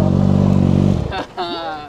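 A motorcycle at a Friday bike night, pulling a backwards wheelie, gives a loud, close engine drone for about a second before it cuts off and voices and other noises take over.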